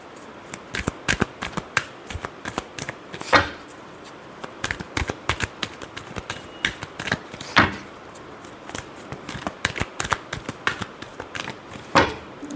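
Tarot cards being shuffled in a run of crisp riffles and flicks, with several louder bursts standing out, close and alone with no talking.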